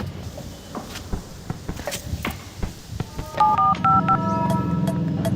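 Keypad tones ring out as a phone is dialed to make a call, a short quick run of beeps coming after several knocks and clicks of handling close by, with no talking.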